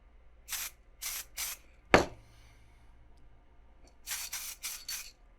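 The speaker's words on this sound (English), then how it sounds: "We're going to give him a nice spray right there." Several short hissing bursts of aerosol clear coat sprayed onto an action figure, three close together, a sharp knock, then four more quick sprays, loud and close in a quiet room.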